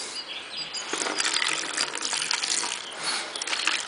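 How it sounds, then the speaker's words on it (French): Water is poured into no-knead bread dough made with T55 flour, giving a close, steady gushing pour for a few seconds, with no talk over it. "Ajoutez un peu d'eau."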